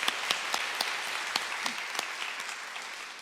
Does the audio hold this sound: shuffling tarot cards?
no